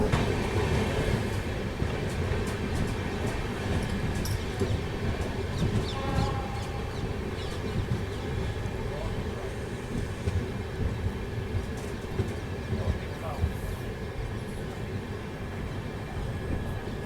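Sleeper class carriage of the Ranthambore Express running from Jodhpur toward Indore, with a steady broadband rumble and rattle of the rolling coach filling the whole stretch, wheels clacking faintly over rails and no talk.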